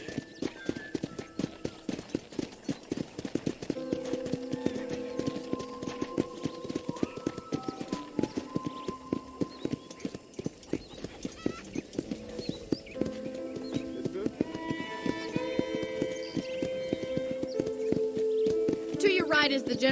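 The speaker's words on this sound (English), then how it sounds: "let's see if you can still ride a horse" Horse hooves clip-clop in a steady, repeated rhythm while riding in the Red Dead Redemption video game, running under game music and a narrator's voice throughout.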